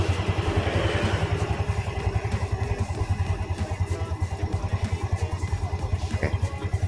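A small motorcycle engine, a Yamaha Vega, Jupiter or Mio type, idles steadily at about 1200 RPM after valve adjustment, with a close, even, rhythmic putter and slight mechanical clatter throughout.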